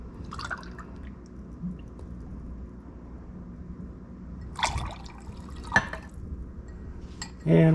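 Pineapple juice for a cocktail is poured into a glass, giving faint trickles and a few soft splashes, with a louder gush at the very end.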